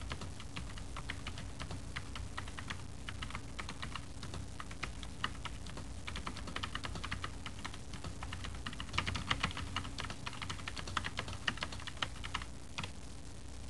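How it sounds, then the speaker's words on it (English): Someone types steadily on a computer keyboard while writing a document in Microsoft Word, a quiet, continuous run of rapid key clicks with occasional louder strokes and short pauses, nearby and alone. "Now we'll finish typing the mailer."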